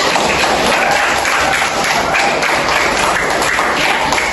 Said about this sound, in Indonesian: Kita tepuk tangan untuk semuanya